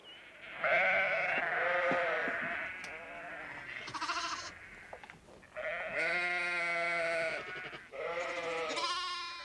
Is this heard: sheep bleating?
yes